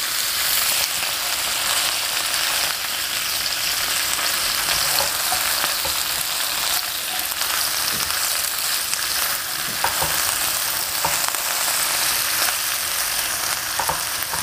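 Vegetables, including spiced okra, are stirred in a frying pan, a loud continuous sizzle close up with faint scraping and small clicks from the utensil throughout.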